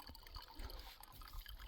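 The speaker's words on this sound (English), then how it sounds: "So we'll fill the bladder and then fill the other bottles." Filtered water fills a bladder-style container during a high-altitude trek in Ladakh, a steady low trickling and splashing that stays faint and continuous throughout, with no talk over it.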